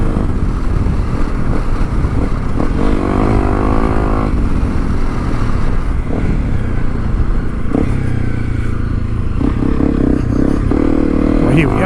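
Honda CRF300L Rally motorcycle engine held around steady mid revs while riding on a mountain trail, a loud continuous drone with rising and falling pitch sweeps, wind buffeting throughout and a voice talking over it.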